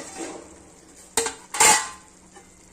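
A metal lid comes off a covered pot of fenugreek (methi) greens cooked with moong dal. Two short, close clanks are followed by a brief rush of steam and sizzle, with no talking.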